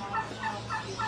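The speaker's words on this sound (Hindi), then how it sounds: "ये देखे कितना प्यारे प्यारे हैं सारे टर्की बर्ड।" Turkeys gobble in a pet market, four short rhythmic gobbling bursts in quick succession at moderate distance, with no talking.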